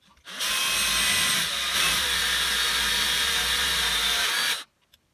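A loud, steady power drill whine runs for about four seconds, then cuts off abruptly into silence.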